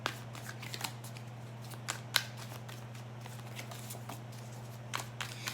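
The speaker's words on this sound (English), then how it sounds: "So I'm going to pull up the Honest Truth Tarot cards and go for it." Honest Truth Tarot cards are shuffled quietly by hand, a soft continuous riffle of papery flicks with a few sharper snaps, heard alone over a steady low electrical hum.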